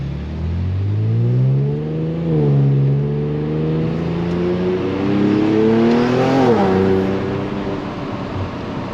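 A lowered Infiniti Q50 Red Sport's engine revs hard, its pitch climbing and dipping through several surges over a steady loud rumble, close by with no talking.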